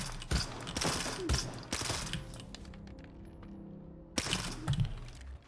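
Bursts of APSB rifle fire in the STALKER 2 video game: a few sharp close bursts, then a quieter gap, then another burst, with small clicks between them.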